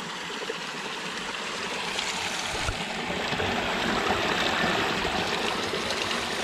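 Spring water pouring out of rock through a pipe, a steady close splashing and trickling flow that swells slightly louder toward the end.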